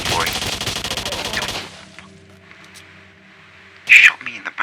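Gunfire in the video game S.T.A.L.K.E.R. Shadow of Chernobyl: a dense, loud rattle of rapid shots for about a second and a half, then quiet with faint tones, and a final sharp burst near the end.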